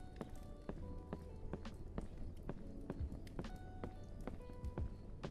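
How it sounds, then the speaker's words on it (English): Footstep effects for the indie game Temple of Shadows: a steady run of light, quick steps, evenly spaced and quiet, with a faint background hum. "Just a little footstep, right?"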